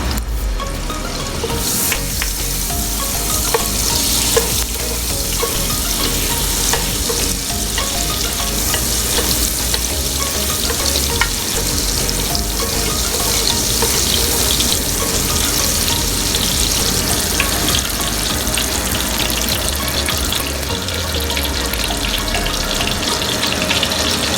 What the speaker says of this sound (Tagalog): Cooking oil muna, tapos lagyan ko ng butter para mas malinamnam.